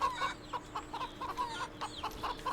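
Chickens cluck in a farmyard in the video game Wytchwood, a steady run of short, evenly paced clucks at moderate volume over a soft ambient backdrop.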